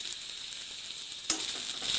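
Onion frying in a pan with garlic cloves being added, a steady soft sizzle throughout with a brief louder crackle partway as something drops into the hot oil; no talking.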